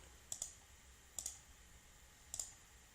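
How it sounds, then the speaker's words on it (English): Three sharp computer mouse clicks while working in Revit 2017, each a quick double click, evenly spaced and close, over a quiet background with no talking. "So if I click on this window,"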